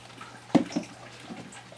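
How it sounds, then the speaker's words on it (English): An acrylic paintbrush swished in a water cup gives one brief splashy rattle, followed by a smaller second slosh, close and fairly quiet amid faint room noise. "now we clean our brush"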